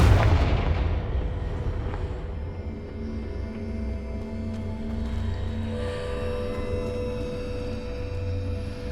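A Confringo blast spell in the video game Hogwarts Legacy erupts with a loud, booming explosion at the start, then a sustained rumbling roar with tonal game effects lingering for several seconds, no talk.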